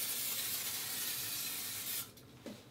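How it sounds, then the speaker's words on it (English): Cooking spray hisses onto a pan in one long steady burst, close and fairly loud, then cuts off, followed by a faint clink. "I'm going to spray it with some PM to make sure it doesn't stick"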